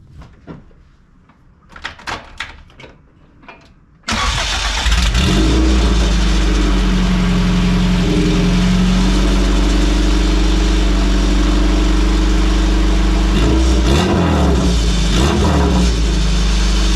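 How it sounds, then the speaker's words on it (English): A 1990 Honda Civic EF hatch with a B-series engine and a newly fitted Jackspania big-tube drag header cold starts after a few faint clicks and door sounds, then settles into a loud, raspy, close idle with a couple of small rev blips. "I'd say let's give it a cold start."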